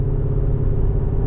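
A 700-horsepower Land Rover LR4 cruises at 65 mph just under 2,000 RPM, its engine heard from inside the cabin as a steady, loud low rumble with a faint hum above it.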